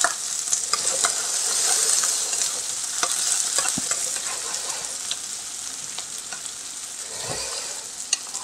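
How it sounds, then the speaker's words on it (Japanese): Mixed vegetables and onions stir-fry in a pan with a steady, close sizzle, broken by scattered scraping clicks of stirring throughout and a louder scrape near the end. "ミックスベジタブルと玉ねぎを、まあ、最初にちょっと軽く炒めますね"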